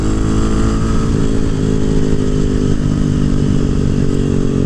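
A 2018 Husqvarna 701 supermoto motorcycle accelerating hard on a canyon road, its engine a loud, continuous, throbbing roar that holds close and strong from start to finish.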